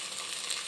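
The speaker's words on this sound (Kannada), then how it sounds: "ಇಲ್ಲಿ ಇವಾಗ ಚೆನ್ನಾಗಿ ಫ್ರೈ ಮಾಡಿಕೊಂಡು" Onion and tomato paste frying in a pan, half a kilo each, giving a brief, faint, steady hiss of sizzling.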